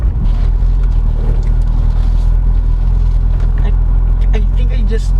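A 2012 Chevrolet Corvette C6 Grand Sport with a regular automatic transmission, heard from inside the cabin as a steady, loud low rumble while driving, with road noise and no clear change in engine pitch.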